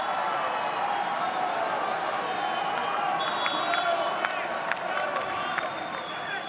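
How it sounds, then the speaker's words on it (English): A volleyball arena crowd roars and cheers after an ace serve at set point in the France v Poland men's Olympic qualifier, with a loud, sustained wash of voices and scattered claps under an announcer's talk. "And listen to that crowd."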